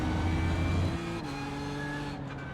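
A GT3 race car laps the Hockenheim stadium section in iRacing, its engine roaring loudly and steadily, then easing back a little as it shifts, with no talk over it.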